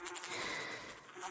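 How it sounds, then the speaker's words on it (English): A bee buzzing as a sound effect in a children's story about a busy bee pollinating flowers, a steady close insect drone lasting about a second, heard alone without narration. "I must pollinate these flowers," replied Busy Bee."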